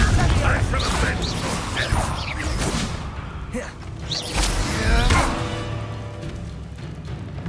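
Fire-spell blasts and bursts crackle through a Hogwarts Legacy wizard duel, with loud whooshes and impacts repeating over busy combat noise and a voice shouting spells.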